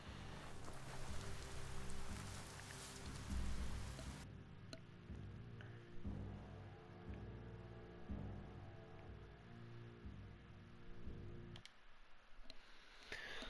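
Steady rain falling in a Biomutant game world, a dense continuous hiss of drops on surfaces with low ambient music tones underneath, no voices.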